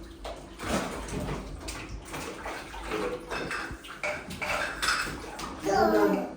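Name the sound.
water in bath while puppies are bathed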